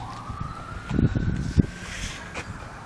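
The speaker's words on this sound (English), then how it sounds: "The ambulances are going off." Ambulance sirens wail steadily in the background, the tone sweeping slowly, with rustling and handling noises closer by.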